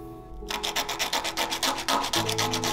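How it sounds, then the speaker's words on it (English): Dress boning gets its edges sanded smooth with a rhythmic series of about a dozen quick abrasive rasping strokes, close and distinct over a faint background hum. "Then I sanded the edges smooth and added it into the back panels."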